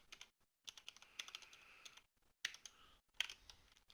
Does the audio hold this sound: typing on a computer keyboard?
yes